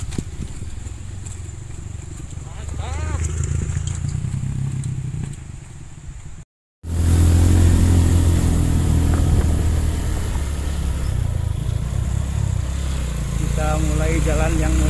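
A motorcycle rides over a rough, bumpy road, its engine droning steadily and loud with clattering and rattling throughout, cut by a brief silent gap midway; people talk over the noise.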